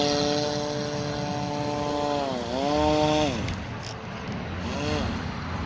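The motor of a scratch-built RC rescue airboat runs with a loud buzzing whine that rises and falls as the throttle changes, close by, with someone talking partway through.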